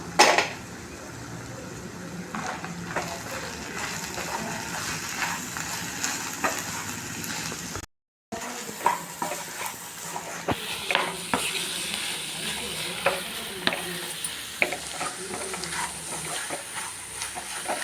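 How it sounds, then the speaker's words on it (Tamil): Masala puri mixture being stirred and tossed with curry leaves and coriander leaves, with scraping clinks of a spoon against a pan and a soft sizzle throughout, broken by a brief silent gap midway. "இதை எல்லா சுற்றி சேர்த்து நல்லா கலந்து விட்டுடலாம்"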